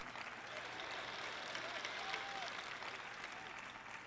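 A crowd at a church sermon claps steadily in a sustained wash of applause, heard faint and at a distance.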